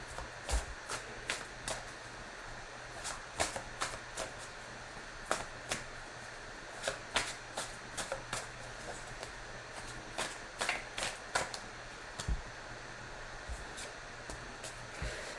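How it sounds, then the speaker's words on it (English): A deck of tarot cards is shuffled again and again, giving soft, quick riffling bursts in an irregular rhythm, close and fairly quiet against a faint room hum. "I'm going to shuffle again"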